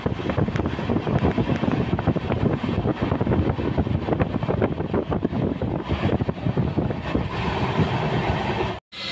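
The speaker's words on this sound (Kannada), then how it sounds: "ಫ್ರೆಂಡ್ಸ್ ಈಗ ನಮ್ಮ ಟ್ರೈನು ಮಾಲೂರು ರೈಲ್ವೆ ಸ್ಟೇಷನ್ನ 100 ಸ್ಪೀಡಲ್ಲಿ ಸ್ಕಿಪ್ ಮಾಡ್ತಿದೆ" Train rushing at about 100 through Malur railway station, recorded from on board: a loud, continuous roar of wheels and rushing wind, steady and dense, that cuts off abruptly near the end.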